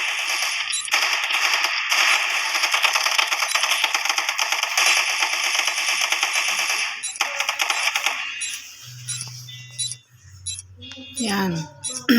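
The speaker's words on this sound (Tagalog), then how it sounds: "Gatling gun guys. Pinaka the best baril talaga." A Gatling gun in a bomb-planting video game fires a long, rapid, loud burst of shots lasting several seconds, then stops; someone talks afterward.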